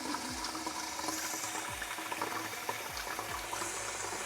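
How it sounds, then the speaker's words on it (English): Lukewarm water poured into a baking pan around ramekins for crème brûlée: a soft, continuous watery rush and trickle, close but faint, with no talking. "what we're looking for is to go 2/3 the way up our little ramekins with this water"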